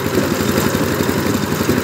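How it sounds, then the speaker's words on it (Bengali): A power tiller engine runs steadily while ploughing dry land, a loud, continuous low chugging rumble close by with no break over the stretch. "আজকে অনেকদিন পর পাওয়ার টিলার দিয়ে জমি চাষ করতেছি"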